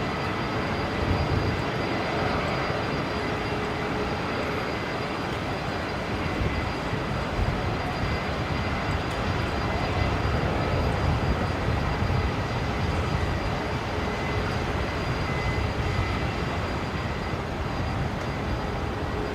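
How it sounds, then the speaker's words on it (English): An Airbus A330 in oneworld livery arrives from Auckland at Brisbane Airport, a broad, steady roar of jet engines that holds at an even loudness throughout, heard from some distance. "There it is, the A330 arriving from Auckland, the One World livery today."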